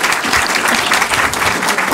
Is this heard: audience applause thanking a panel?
yes